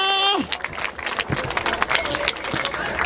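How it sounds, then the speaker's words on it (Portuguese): A crowd at a freestyle rap battle semifinal in Brazil breaks into clapping and cheering, uneven and lively, after a brief voice at the start. "Palmas pra essa batalha, família."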